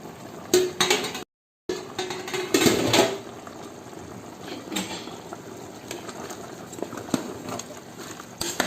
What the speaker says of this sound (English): I'll wash it with sponge and salt.